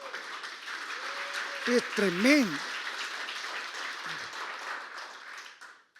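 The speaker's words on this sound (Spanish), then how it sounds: "Le doy un aplauso a Mike" A church congregation gives a round of applause, soft steady clapping in the background while someone speaks over it briefly and a warbling tone sweeps up and down partway through.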